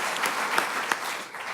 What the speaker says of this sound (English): We have one more round of applause for them.